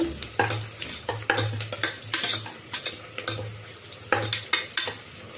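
A chicken gravy base fries in a pan while a spoon stirs and scrapes against the metal. Sharp clinks and scrapes keep breaking over a steady sizzle, close and fairly loud, with no talking.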